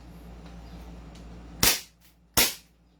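A TREX Hi-Capa Silver Edition airsoft pistol fires two sharp, loud cracks about three quarters of a second apart, each with a short decaying tail, in an otherwise quiet setting.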